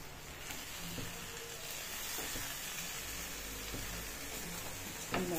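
Chopped onion sizzles steadily in a Moroccan tagine, a soft, even crackle of frying with occasional stirring clicks and no talk.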